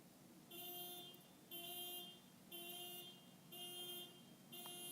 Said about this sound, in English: That car alarm agrees.